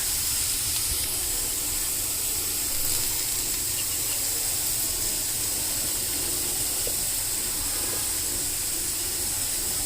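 Vegetables frying lightly in homemade butter in a pan give a steady, even sizzling hiss that runs unbroken the whole time, close and fairly loud, with no voices.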